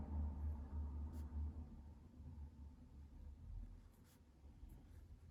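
A black pen writes small lettering on a journal page, a soft continuous scratching close by under a steady low room rumble, with no talking.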